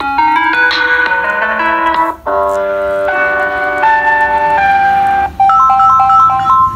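Samsung A10 phone speaker playing a bright, loud melodic ringtone with bell-like tones, repeating in phrases with short gaps between them, up close and with no talking.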